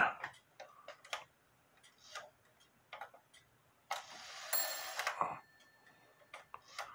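A Schmeckenbecher cuckoo clock under repair ticks in a slow, regular rhythm of faint clicks, close and quiet, broken midway by a louder burst of mechanical whirring and a chime-like tone.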